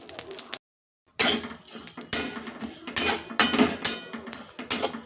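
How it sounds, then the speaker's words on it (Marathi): Coriander seeds dry roasting in a kadai with no oil rattle and scrape under a stirring spoon, with sharp metallic clinks and scrapes in irregular bursts after a short silent gap near the start. "कढईमध्ये अगोदर धने भाजून घ्यायचे"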